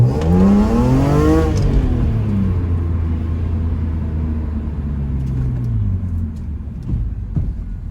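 BMW E46 M3 with a new fuel pump, Gruppe M intake, CSL gearbox and 4.10 limited-slip differential, its engine revving hard up close, then settling into a steady loud drone as it pulls away.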